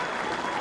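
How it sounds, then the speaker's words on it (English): Crowd applause at Derwent Park during a 2000 Rugby League World Cup match between the Maori and Samoa, a brief burst of distant, dense clapping and crowd noise. "And a big hand from this excellent crowd here at Derwent Park."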